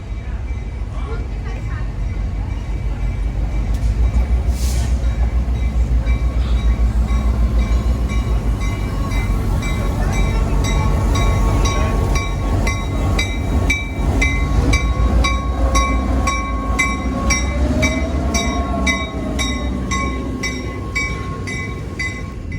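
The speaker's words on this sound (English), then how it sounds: "the train is about to enter the station" A train rumbles and clatters as it rolls into a station, with rhythmic wheel clicks, a brief squeal, and voices speaking over the noise.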